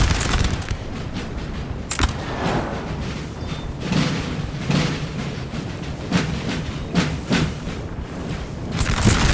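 Musket volleys in Napoleon Total War, a historical 1814 river battle, crackle as dense, continuous ragged fusillades with scattered sharp reports and booms over a steady roar of battle, loud and sustained.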